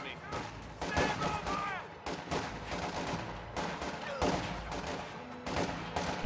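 Rifle and sniper shots from Soviet infantry in a World War II strategy game, sharp cracks repeating irregularly amid battlefield noise, with a voice speaking over the firing.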